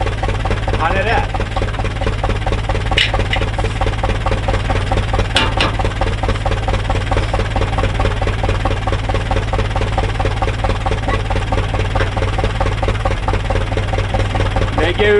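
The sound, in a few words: tractor engine idling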